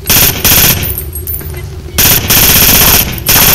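Automatic gunfire in the tactical shooter Raven Shield, loud close bursts of rapid shots in two clusters separated by a short lull, with a final burst at the end.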